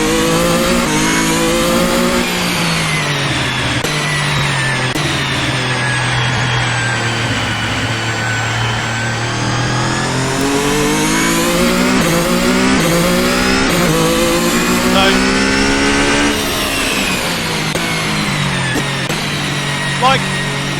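Ferrari F1-75 2022 Formula One car engine in Assetto Corsa, a loud sustained high-pitched whine rising and falling with revs across the whole stretch, with talk over it.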